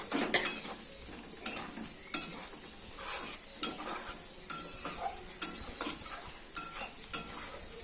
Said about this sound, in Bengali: এই মশলার সাথে ভালো করে কষাবো আমি যেহেতু এই গোবিন্দভোগ চালটাকে আগে ভালো করে গামছাটা মুছে নিয়েছি